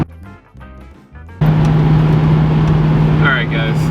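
A 1998 Saleen XP8 truck cruising on a highway, a steady loud engine and road drone with a sustained low hum, beginning abruptly after a brief stretch of quieter tonal background.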